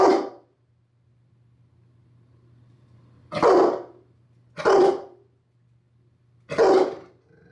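A Rottweiler barks four times on command: one bark at the start, then three more spaced about a second apart after a pause, loud and close, with a low steady hum underneath.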